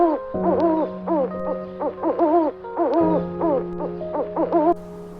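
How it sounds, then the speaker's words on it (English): Owl hooting in repeated short quavering bursts, a rhythmic series of clear calls at moderate level over a low steady background hum. "Owl."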